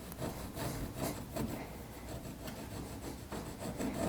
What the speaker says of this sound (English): So if I run my chisel over like this, carefully, it takes a lot of that off